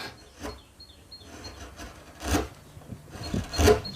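Hand sawing of flat wood to cut out a violin front and back, with a few rough rasping strokes that rise and fade in uneven rhythm, close and fairly quiet with no talk.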